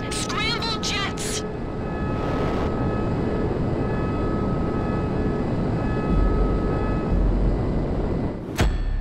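Military Hydra jet in GTA 5 roaring with a loud, steady engine drone that fills the scene, with a brief voice call at the start and a sharp burst near the end.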